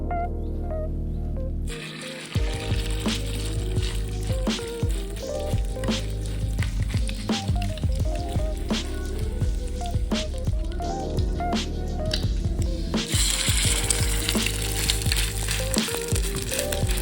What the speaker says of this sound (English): I'm cooking my salmon patties on a medium heat,